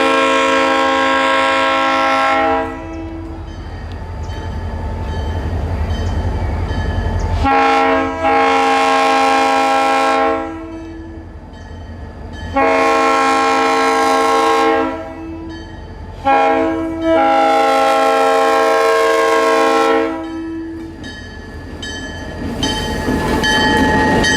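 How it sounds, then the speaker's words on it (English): Orlando and Northwestern railroad train passing through Mount Dora, Florida, sounding a loud horn in four long blasts separated by short gaps over a low rumbling engine and wheels, close and dominant throughout. "This is the first train movement through Mount Dora since February"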